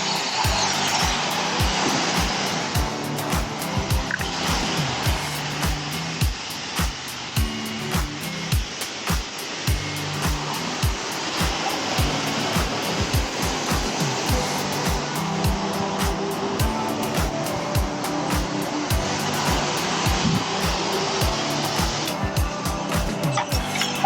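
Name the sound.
car wash dryer blowing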